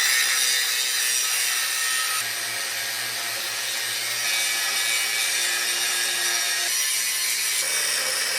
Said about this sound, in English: I'm gonna start trimming it down with the grinder